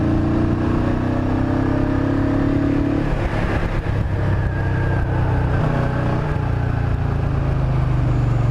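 A Kawasaki Vulcan 500 cruiser motorcycle engine runs steadily while warming up, a loud, close, continuous drone with a slight rev change partway through, with no voices.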